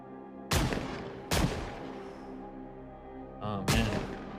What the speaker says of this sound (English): Farmer John is off his rocker. What the hell is he even shooting at?